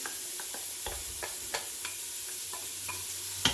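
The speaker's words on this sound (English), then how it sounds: "as that starts to fry, everything's smelling good, I'm going to go ahead and add our onions in." Onions fry with spices in a pan for spiced Indian urad beans, a soft sizzle under scattered scraping and stirring clicks from a utensil, all close and fairly quiet.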